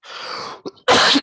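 One person sneezes loudly and close by during an online class, a drawn-out intake and short catch followed by a sharp, explosive burst.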